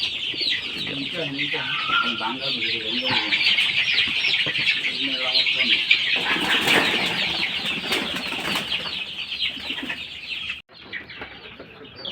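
A flock of Egyptian Fayoumi chickens clucks and squawks constantly at close range, with wing flapping and a busy farm din that suddenly cuts off near the end, while people talk faintly in the background.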